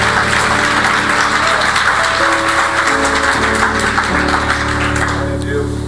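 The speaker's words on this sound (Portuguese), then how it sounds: "Dê um aplauso ao Senhor Jesus." A church congregation applauds during a worship service, a dense, steady wash of clapping running the full length alongside sustained keyboard-like tones and some voices.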